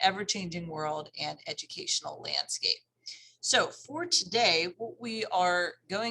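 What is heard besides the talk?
None of the usual background noises is heard.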